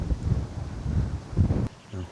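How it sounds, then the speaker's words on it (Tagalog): Strong wind gusts at a lakeside campsite in Cavinti buffet the microphone in low rumbling bursts, fairly close and moderately loud, ending in a brief lull. "Mas malakas yung hangin."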